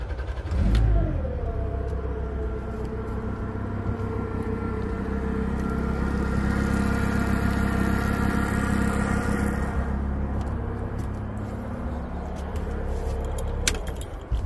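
A 2000 Honda 130hp inline four-cylinder EFI four-stroke outboard motor runs steadily at close range with a smooth droning hum, a brief clunk near the start and a slight rise in revs midway, with no talking.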